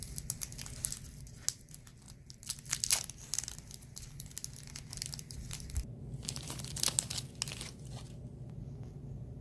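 A fun-size Twix Dark cookie bar with caramel and dark chocolate has its wrapper crinkled and torn open close up, giving quiet scattered crackles and rustling bursts with short pauses and no talking.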